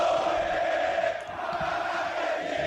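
Ponte Preta supporters sing and cheer at Moisés Lucarelli stadium during a Paulista Série A2 quarter-final against Comercial, a loud, steady wall of crowd chanting filling the whole stretch with no break.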